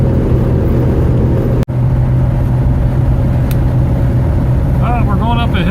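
A Ford Falcon cruises at highway speed with its engine turning high RPM, a loud steady drone mixed with wind and road noise, with one brief dropout and a short voice near the end.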